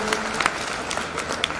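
Women at a community welfare society gathering clap for a programme dedicated to them, a modest scattered applause with a few sharper individual claps standing out, with faint voices mixed in.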